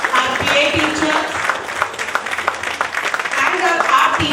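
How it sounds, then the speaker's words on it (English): Audience applause for grade 5 teachers at a school event, clapping of moderate loudness that rises and falls, with voices mixed in underneath. "That really calls for a huge round of applause for all our teachers of grade 5."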